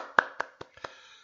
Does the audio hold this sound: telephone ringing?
no